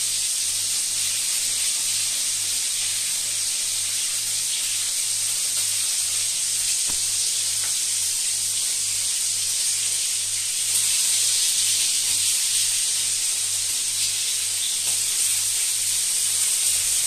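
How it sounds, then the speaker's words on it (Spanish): King prawns frying in olive oil in a paella pan, a steady loud sizzle and hiss that runs without pause and swells somewhat louder partway through, with a faint low hum underneath. "vamos a sofreír los gambones"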